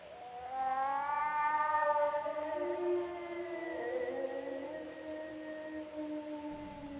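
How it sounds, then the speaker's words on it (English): Eerie cat-like wailing from a Val Lewton horror film soundtrack, a sustained, slowly gliding tonal cry with several layered harmonics, steady and moderately loud, fading gently toward the end. "what we're hearing in the background is like sort of a cat like wailing"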